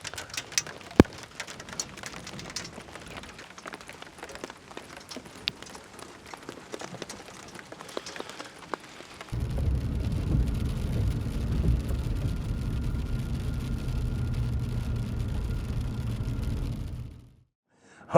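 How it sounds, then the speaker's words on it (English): Heavy storm rain with hail and wind, light patter at first, then from about nine seconds a loud, dense roar of downpour that holds steady before cutting off abruptly near the end. "The sky really opened up on me there. There was hail and wind and lightning storms."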